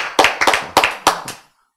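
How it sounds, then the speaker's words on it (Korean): A lecture-hall audience at a Korean Bible class claps in a short burst of five sharp, evenly spaced claps that end abruptly, fairly close and with no speech over them. "박수!"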